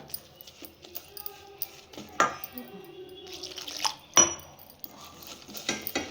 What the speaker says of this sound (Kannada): ನೆಕ್ಸ್ಟ್ ನಾನು ಸ್ವಲ್ಪ ನೀರು ಹಾಕ್ಕೊತಾ ಇದ್ದೀನಿ